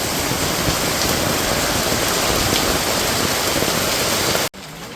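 Steady heavy rain pours down in a village, a dense unbroken hiss of drops on surfaces, close and loud, cutting off abruptly near the end to a quieter, thinner patter.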